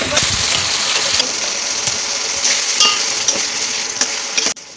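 Spiced potato curry with tomato being stirred in a hot frying pan, a loud, steady sizzle with scraping strokes of the spoon and a few clicks before a sudden stop at the end.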